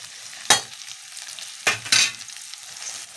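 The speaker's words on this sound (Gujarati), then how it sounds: "હવે આપણે હળદર, મીઠું અને ગરમ મસાલો નાખી અને હલાવી લેવાનું" Okra stirred in a pan with turmeric, salt and garam masala, three sharp scraping strokes of a spoon against the pan over a faint background sizzle, close and clear.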